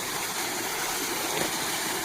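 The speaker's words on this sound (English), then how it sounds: "Here is that sad Iron Spring I was referring to." Water flowing at an iron spring on a mountain hike, a steady close rushing trickle over mossy rock, constant and unbroken with no voices.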